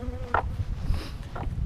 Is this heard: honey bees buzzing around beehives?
yes